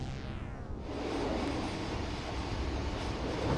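A train rumbles along with a steady rolling roar, rising slightly in level as it approaches West Runton station in Norfolk.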